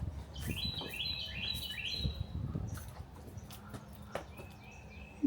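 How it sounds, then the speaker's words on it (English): Birds chirp along a nature trail in Conyers, Georgia, a few quick bright tweets and short trills at moderate distance over quiet outdoor background, with scattered rustles and taps and no talk. "Listen to the birds."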